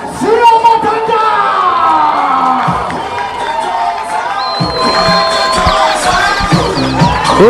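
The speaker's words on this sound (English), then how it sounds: "ladies and gentlemen, our local crowd, let's give a big round of applause for Captain Sia Matanda!" A crowd at a local schools rugby match between Kuilsrivier and Helderberg cheers, whoops and shouts loudly as the home captain takes the field, with an announcer's voice carrying over the noise throughout.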